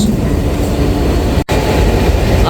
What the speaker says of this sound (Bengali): এখান থেকে দেখতে পাচ্ছি ছয় হাজার পাঁচশো সিরিজের লোকোমোটিভ যার কোড নাম্বার ছয় হাজার পাঁচশো পঞ্চাশ